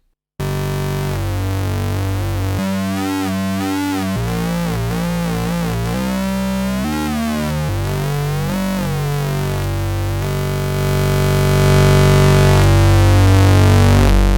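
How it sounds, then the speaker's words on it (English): A gritty, buzzing Moog Prodigy synthesizer tone with filter resonance turned up, sweeping and warbling as it shifts in character, growing brighter and louder near the end, with no voices. "you can hear there that we lose loads of volume when we turn the resonance up"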